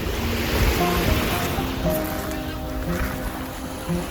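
Sea waves wash onto a sandy, rocky Odesa beach, a continuous close surf roar with wind noise and no speech.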